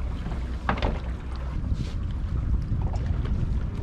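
A motorboat engine drones low and steady while wind buffets the microphone and water rushes past.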